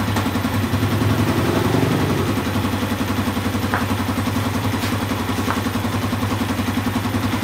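A Yamaha Jupiter MX motorcycle engine with a non-limit ignition turns over and settles into a steady, loud idle with a low, even chug throughout.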